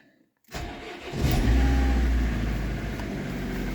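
A petrol car engine cranks and catches after a brief silence, then settles into a steady, loud idle as it warms up, close by and with no talk over it.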